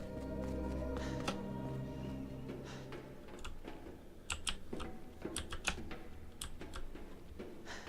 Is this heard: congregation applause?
no